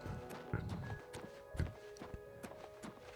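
Hollow hoof clops of a horse in the video game Oblivion Remastered land at an uneven walking pace against a faint steady hum, fairly quiet and close.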